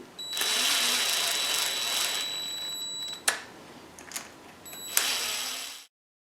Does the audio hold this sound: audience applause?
no